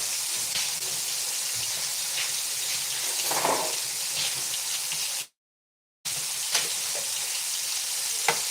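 A glass of orangeade is stirred with a spoon, giving a continuous close fizzing and swishing with a few faint clinks. The sound stops briefly in the middle, then resumes.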